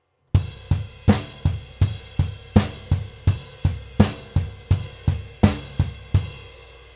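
Double bass drum pattern played with both feet, about fifteen evenly spaced punchy kick strokes with sharp attacks and short decays, loud and close, with no talking.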